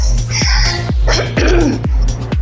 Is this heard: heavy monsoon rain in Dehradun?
no